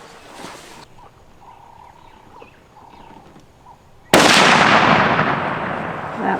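A single .375 rifle shot fired on a dangerous-game hunt in Zimbabwe cracks loud and sudden after a quiet stretch with faint bird calls, its blast rolling on as a long, fading boom.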